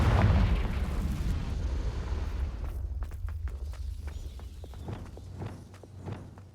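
A Confringo fire spell bursts in Hogwarts Legacy with a loud, close boom, then rumbles and crackles as it fades over several seconds.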